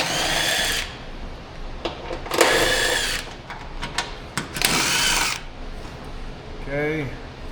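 Power tool whirring in short bursts as 10 mm bolts come out of the underbody shield on a 2016 Jeep Patriot, close and loud with clicks between runs.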